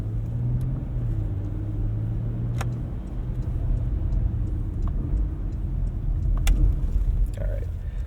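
Engine of a 2015 Porsche Macan Turbo on a wet-road test drive, a steady low drone and road rumble with faint ticking, heard from inside the cabin and continuing evenly throughout.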